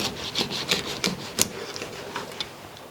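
A knife fillets a sea bass along the backbone, making a series of short scraping rasps at an irregular rhythm, close and fairly clear, with no talking.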